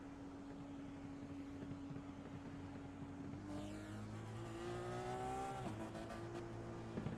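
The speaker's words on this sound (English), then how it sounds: "I really like these Indy cars." IndyCar race cars scream past on the oval at the Indy 500, a steady distant engine drone that swells as cars pass with rising and falling pitch, heard from afar without talk.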